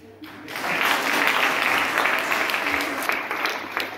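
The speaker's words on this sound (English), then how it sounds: "Here's a good applause. You can applaud at this moment." Audience at a church gathering with an archbishop breaks into sustained applause, a dense, steady clatter of many hands that swells quickly and carries on to the end.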